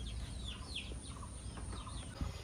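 Chickens cluck softly on a rural farm where goats are also kept, with faint scattered calls heard over a steady low rumbling background.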